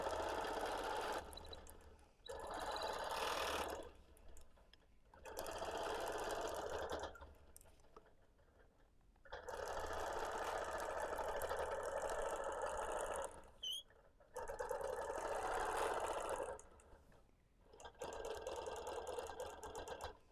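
Sewing machine quilting a scrappy quilt, stitching in the ditch, running in steady bursts of motor whir and needle chatter with short pauses between runs, fairly close and alone.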